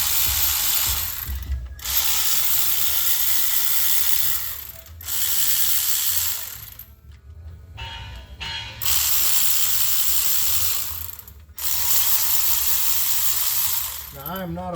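A ratchet works loose the valve cover bolts on a 1972 Ford F100's 360 engine, giving several long runs of rapid clicking, close and loud, separated by short pauses.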